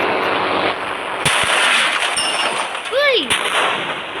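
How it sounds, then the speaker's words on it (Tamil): A sharp rocket launcher blast from an Indian bikes driving 3D game cracks out, followed by a whooshing projectile and a descending whistle, then another bang over a steady background hum. "locket launcher"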